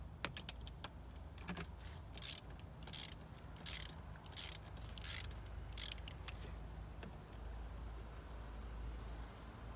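Ratchet wrench turning out the 12mm bolts holding a throttle body on a 3000GT intake, heard as five or six short bursts of rapid clicking, close and fairly quiet, with faint handling clatter between them.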